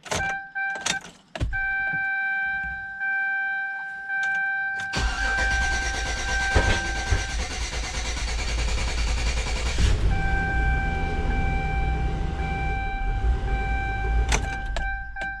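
A chime sounds, then a Chevrolet Tahoe engine with a newly installed transmission cranks and catches, rumbling at a steady idle for several seconds before shutting off as the chime returns.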